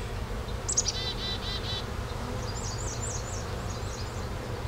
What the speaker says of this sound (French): J'aurai aucun trouble à secouer les autres cadres pour récupérer mes abeilles nourricières